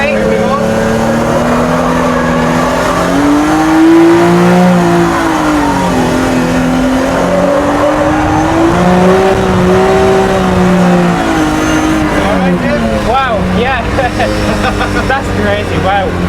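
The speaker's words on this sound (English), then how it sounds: "So this time the car will go left and then slide into a right-hander." A car driving fast, going left and then sliding into a right-hand corner, engine revving loudly and rising and falling with the turns, with some tire squeal and talk over the top.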